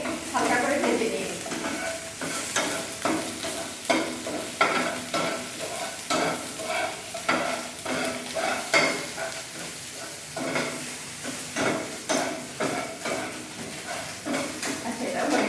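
Marinated chicken with onion, garlic, ginger, salt, soy sauce and tomato sauce fries in oil over high heat, with a steady close sizzle broken by repeated scraping stirs and light clinks of a spatula against the pan.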